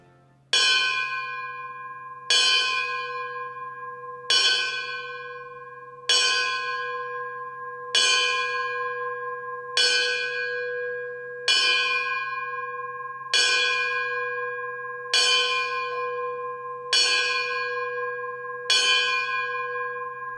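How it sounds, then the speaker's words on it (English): Ceremonial Arlington Fire Department bell struck eleven times at a November memorial ceremony, each loud metallic strike ringing out and decaying before the next in a slow, even rhythm, with no talk. "an Arlington Fire Department representative will ring the bell 11 times."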